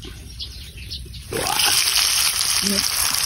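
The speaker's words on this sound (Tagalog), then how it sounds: "Prito na natin yung balot" Hot oil suddenly bursts into a loud steady sizzle as balut eggs hit the pan, crackling continuously close by.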